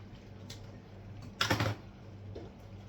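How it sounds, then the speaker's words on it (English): Scissors or a blade cut through material along drawn black marks while a small DIY mini deep fryer is being built, giving a brief close crunching burst that stands out from a quiet background. "Now I'm cutting inside my black marks."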